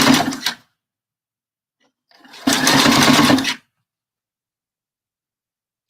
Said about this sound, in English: I'm going to stitch right on top of that stitch